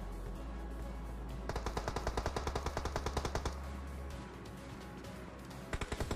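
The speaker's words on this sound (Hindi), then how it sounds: "सामने से फायरिंग चलने लगी थी" Rapid bursts of automatic gunfire in the PUBG Mobile battle royale game, a steady string of close, loud shots followed by a pause and a final short burst, with no talking.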